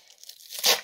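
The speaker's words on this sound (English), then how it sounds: "Rip the cardboard." A cardboard sleeve on a game case being ripped open, one short rising tear peaking near the end after faint rustling.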